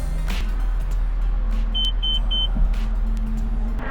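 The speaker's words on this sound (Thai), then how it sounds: "อันนี้นะครับเพชรจะเปิดไฟเลี้ยวขวานะครับ มันก็จะมีสัญญาณแจ้งเตือนดังขึ้นนะครับ" Inside a 2020 Suzuki Swift with the right turn signal on, the blind spot monitor sounds three short, high-pitched warning beeps over a steady low engine hum and the soft ticking of the indicator.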